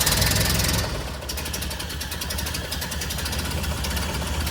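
A 1931 Ford Model A engine fires up from cold and settles into a loud, close, steady idle with a rapid, even knocking rhythm, alone without talk.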